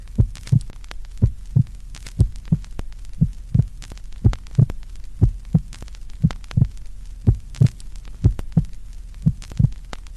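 Heartbeat effect under creepypasta narration: a steady series of paired low thumps, about two beats per second, repeating evenly over a faint hum with no talking.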